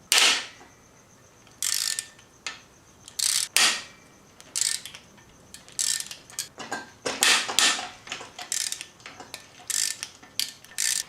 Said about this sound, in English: when you're loosening the bolts, you're going to go from the outside in